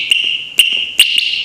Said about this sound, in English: double beep means it's disarm